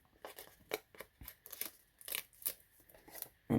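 Scissors snip away a waste strip of paper from a sunflower gift box project, giving a series of soft, close, crisp cuts with small crinkles, fairly faint and without talk.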